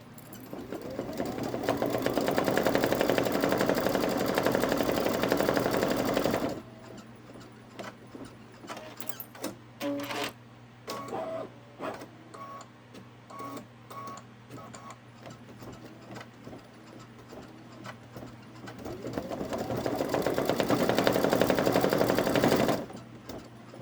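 A Baby Lock Solaris Vision embroidery machine stitches a design with a loud, fast, steady mechanical chatter at the start and end, and a quieter stretch of ticking and clicking mechanism between.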